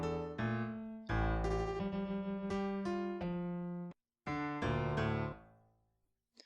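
Piano beat built in Reason 10.1: punchy chords and bass hits in a steady rhythm, a brief dead stop, then more hits ending on a piano tail that fades out.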